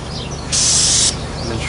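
An aerosol can sprays yellow paint onto plastic fishing jugs in one loud, steady hiss lasting about half a second, close by, with fainter bursts around it.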